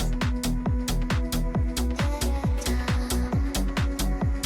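An electronic dance track's first drop runs on a steady four-on-the-floor kick and bright percussive hits, with a soft hiss of white noise layered through the mix at a constant, fairly loud level.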